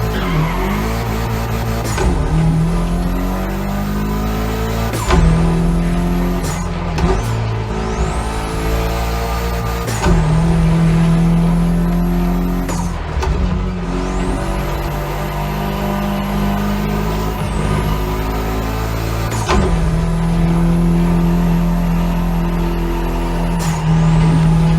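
A Mitsubishi Lancer Evo 6 driven hard on a hill road, its engine revving up close again and again with sharp drops at each gear change and no talk.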